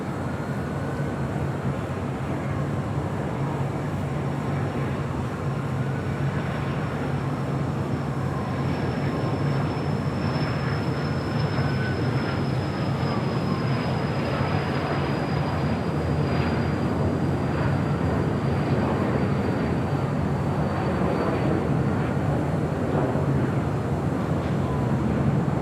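An airliner takes off from runway 25 right at Los Angeles International Airport, a loud, steady jet roar that holds for the whole stretch with a slowly shifting whine above it.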